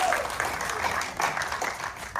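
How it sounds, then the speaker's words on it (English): A brief burst of applause from a small audience at a Los Angeles film premiere, a few seconds of steady clapping at moderate volume. "give her a big round of applause"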